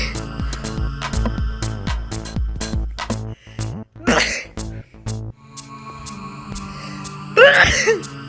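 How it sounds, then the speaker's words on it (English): Repeated sneezes in a studio setting, several sharp bursts spaced across the clip over a low steady hum, with no talk. "are you a weak sneezer like me who has to sneeze multiple times?"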